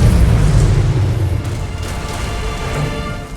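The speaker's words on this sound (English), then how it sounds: "Nuclear weapon launched." A nuclear weapon strike in the Command and Conquer Rivals mobile game, heard as a deep, loud rumbling boom that starts strong and slowly fades into a rushing, crackling decay.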